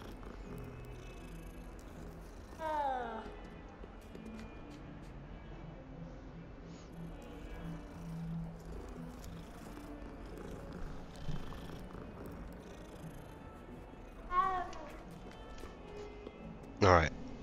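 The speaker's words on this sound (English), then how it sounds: "Of course I gotta stop and pet him." A cat in the video game Hogwarts Legacy purrs in a low continuous rumble while being petted, and several short meows break out over it, with someone talking quietly in places.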